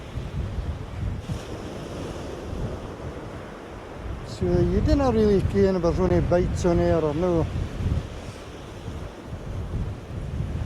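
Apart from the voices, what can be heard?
strong wind gusting on a beach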